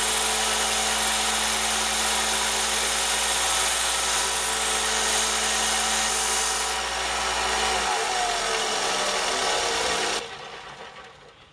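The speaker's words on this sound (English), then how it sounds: "I do the set screw on a belt sander." A belt sander grinding a point onto a set screw held on an Allen wrench, a steady abrasive roar with constant rubbing grit that cuts off sharply near the end, leaving a brief fading hum.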